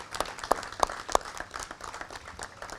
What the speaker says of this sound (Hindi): ये फ़ारूक के लिए तालियां हो जाएगी